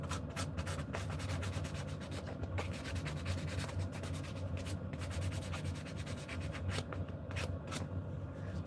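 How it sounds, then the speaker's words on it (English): A carved back scratcher is sanded by hand with 240-grit paper in a workshop, with steady, close rubbing strokes that run continuously and rhythmically without pause. "I've got a bit of carving and sanding"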